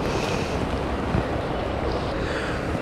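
Strong wind buffeting an outdoor vegetable allotment in June, a loud continuous roar with heavy rumbling gusts across the microphone and nothing else audible.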